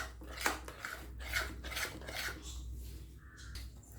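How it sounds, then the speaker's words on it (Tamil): Gram flour halwa stirred in a pan: quiet, rhythmic rasping scrapes of a spatula across the pan, repeating roughly every half second, close and alone. "எப்பொழுதும் நம்ம இந்த அல்வா மாதிரி ரெசிபி செய்யும்போது அந்த கை விடாமல் நல்லா கிண்டி விட்டுட்டே இருக்கணும்"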